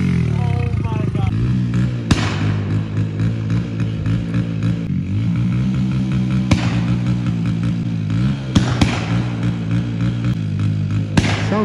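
A CRF100 motorcycle running on E-85 fuel gives sharp exhaust backfire pops scattered over a steady engine drone, as people talk nearby.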